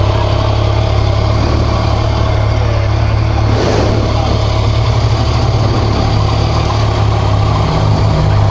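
A 2014 Yamaha MT-09 / FZ-09 motorcycle engine running close by, a steady loud idle with a brief blip of revs midway through.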